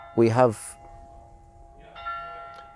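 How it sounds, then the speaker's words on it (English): A short burst of speech is followed by clear ringing bell tones that sustain and fade, then a second bell strike chimes near the end. "The bells chime."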